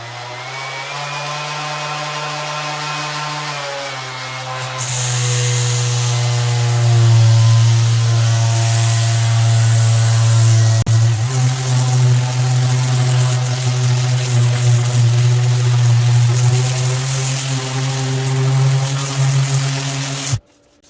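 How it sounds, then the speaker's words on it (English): A cordless random orbital sander whirs loudly and steadily for about twenty seconds, starting up with a rising hum and cutting off abruptly at the end. "it is doing a great job sanding here."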